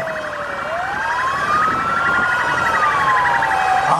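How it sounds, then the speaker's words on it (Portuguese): Fire brigade vehicles of a military fire battalion in Uberaba, Minas Gerais, parade past with wailing sirens rising and falling in overlapping sweeps, loud and continuous over a faint crowd hum. "Olha aí o desfile das viaturas do 8º Batalhão de Bombeiro Militar de Minas Gerais, sediado em Uberaba."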